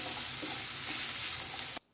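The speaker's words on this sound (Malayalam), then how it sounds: "ഞാനൊരു പാനിലേക്ക് ആവശ്യത്തിന് വെളിച്ചെണ്ണ ഒഴിച്ചിട്ട് അതിലേക്ക് ഞാൻ ഇഞ്ചി വെളുത്തുള്ളി പേസ്റ്റ് ഒന്ന് വഴറ്റാൻ എടുക്കുകയാണ്" Ginger garlic paste sautés in coconut oil in a pan for a Kerala-style veg cutlet. There is a close, continuous sizzle and crackle that cuts off abruptly near the end.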